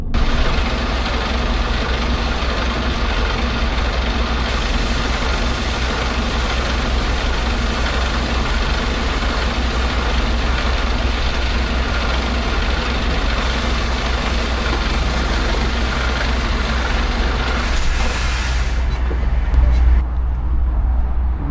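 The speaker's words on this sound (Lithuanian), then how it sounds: "ir einam į suspension ir tada pilnai pasikeliame suspension." Heavy truck air suspension rising to full height, a long steady airy hiss over the loud low rumble of the idling diesel engine, close by, with a voice talking at times.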